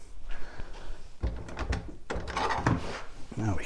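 Someone opens the single door of a small old pine cupboard that also has one drawer. The wood gives a few dull clunks and knocks against steady background noise.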